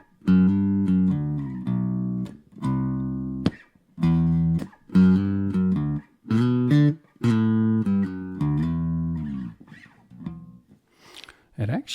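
Bass guitar picked through an EROK mini portable bass amp on its clean channel, a series of plucky sustained notes and short phrases, clear and close, with the last notes fading into quieter plucks.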